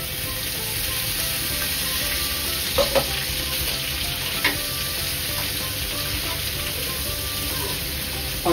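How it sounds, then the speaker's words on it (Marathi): Chopped onion roasting in a pan for chicken vade, a continuous close sizzle and crackle with a couple of brief stirring clicks partway through. "लालसर होईपर्यंत भाजून घ्यायचं"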